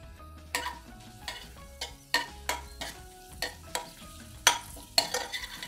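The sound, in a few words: dried red chillies, cumin and mustard seeds frying in oil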